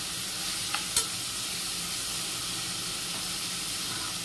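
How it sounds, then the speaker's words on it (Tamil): Onions and curry leaves sautéing together in a pan for a kidney bean gravy, giving a steady soft sizzle and hiss with a couple of brief stirring clicks near the start, fairly quiet and without talk. "வெங்காயம் கருவேப்பிலை ரெண்டையுமே ஒன்றா சேர்த்துருக்கேன். இதை நல்லா வதக்கிடணும்."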